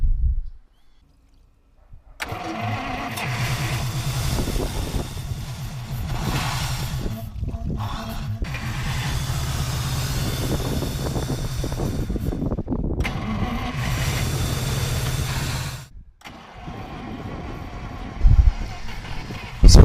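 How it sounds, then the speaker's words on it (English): A Soviet USSR military truck engine, unstarted for 39 years, cranks after a silent pause and catches, then runs loud and rough with a few brief stumbles and dropouts before settling to a quieter idle and a final thump. "this was the first start of the Soviet engine, which was not starting for 39 years and was standing"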